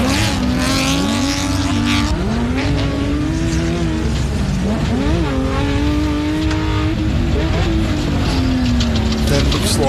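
A race car lapping at Loveday 4x4 Adventure Park during the Loveday 400, the engine revving up and down through gear changes, loud and continuous, under a commentator's talk.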